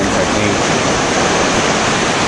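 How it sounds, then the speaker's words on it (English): Rough Atlantic Ocean water churns in a loud, dense, continuous roar of crashing surf, with a brief voice heard faintly under it. "It's the Atlantic Ocean, and it is very, very rough water."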